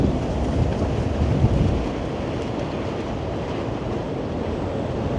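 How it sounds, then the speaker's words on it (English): Strong gusting wind buffets a street in Midtown Toronto, a loud broadband rumble that surges over the first two seconds and then settles into a steady, heavy roar with no voices. "you can see the wind is just gusting something crazy right now"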